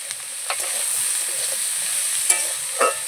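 Steady sizzling in a frying pan holding capsicum, cashews and raisins, with a few soft scraping stirs cutting through the continuous hiss at close range.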